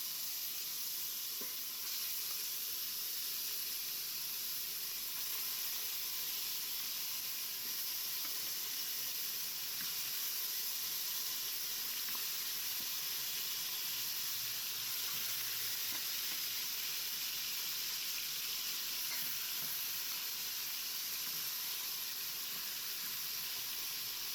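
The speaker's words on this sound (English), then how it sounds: "It's hot, so we're going to go ahead now and sear our oxtail on both sides." Jamaican oxtail sears in hot oil in a small Dutch pot, a constant, even crackling sizzle that holds steady for the whole stretch, close by but fairly quiet, with no voices.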